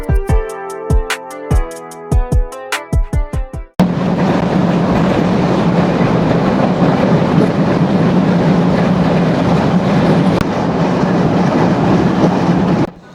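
The Jahanabad Express rumbles steadily over the 549-metre Madhumati rail bridge above the Madhumati River, a loud, continuous roar of wheels and carriages that follows a few bright plucked musical notes.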